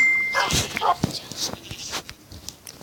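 Several short dog barks and yips sound in quick bursts, somewhat synthetic and close, with scattered clicks and thuds between them, from dogs in Minecraft.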